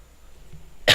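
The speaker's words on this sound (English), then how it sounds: "Sorry about the coughing." A single sharp cough bursts out at the very end after near silence, close and loud.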